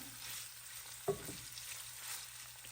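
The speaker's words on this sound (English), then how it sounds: "this is my sausage. It's just about finished browning up here." Sausage browning in a frying pan gives a soft, steady sizzle, with one brief scrape of a utensil partway through and no talk.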